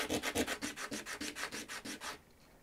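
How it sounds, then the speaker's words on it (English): Sandpaper is rubbed across the Lincoln Memorial side of a copper-plated zinc penny in about a dozen quick, even back-and-forth strokes, a soft close scratchy rasp that stops abruptly. "put my penny with the Lincoln Memorial side down, and then just sand off as much as I can"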